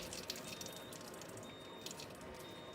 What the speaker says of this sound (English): I'm going to turn the flow of the water on.